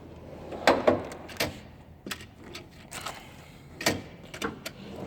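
Metal drawers on a Snap-on KRL series toolbox slide open and shut in a few quick, close rattling pulls and clunks, separated by short pauses, with no talking.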